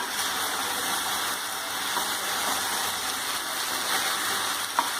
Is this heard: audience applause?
no